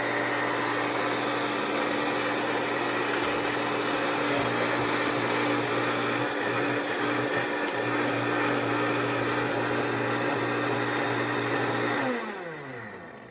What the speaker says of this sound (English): So we are going to put these through the Vitamix